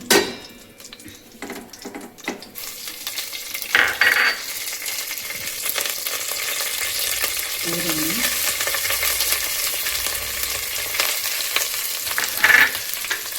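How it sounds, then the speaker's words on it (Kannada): Mustard seeds and cumin temper in hot oil with curry leaves, giving a steady close sizzle and spattering, with stirring and a few louder bursts and clatters. "ಸ್ವಲ್ಪ ಒಗ್ಗರಣೆಗೆ ಸಾಸಿವೆ ಮತ್ತು ಸ್ವಲ್ಪ ಜೀರಿಗೆಯನ್ನು ಹಾಕಿದ್ದೇನೆ"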